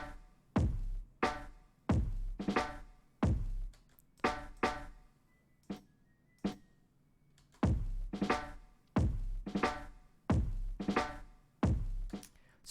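Sharp snare hits fall in a steady pattern with short pauses between groups, each hit slightly doubled like a quick grace stroke before the main stroke.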